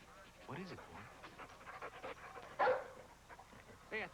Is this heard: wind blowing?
no